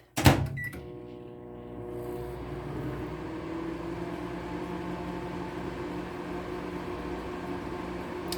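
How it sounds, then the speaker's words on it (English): A microwave oven door closes with a sharp clunk and buttons beep, then a steady low mechanical hum drones on continuously while melt-and-pour soap heats. "it's going back in the microwave"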